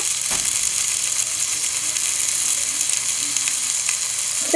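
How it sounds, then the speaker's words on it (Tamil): Salted onions for a large batch of seeraga samba chicken biryani fry in a pan, giving an even, steady sizzle close by with faint stirring and no speech. "வெங்காயத்தை நல்லா கிளறி விட்டுக்கலாம்"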